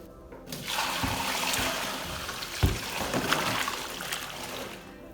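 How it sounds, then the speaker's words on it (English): Cotton fabrics and a shirt, bundle-dyed with marigolds and cosmos, being rinsed in water: steady close sloshing and splashing with one sharper thump midway, no voices. "I'm gonna rinse out these fabrics and that shirt"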